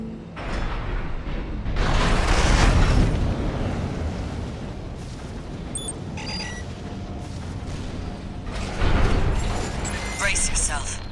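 Container launcher firing in Armored Core 6, a deep booming blast with rumbling mechanical bursts that swell, ease, then surge again near the end, loud and continuous, with game dialogue spoken over it.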